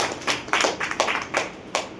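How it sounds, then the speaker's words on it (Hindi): Scattered audience clapping in a classroom or hall, a handful of loose, uneven claps spread across two seconds rather than a full ovation, fairly close and without talk. "सर के लिए एक बार जोरदार ताली"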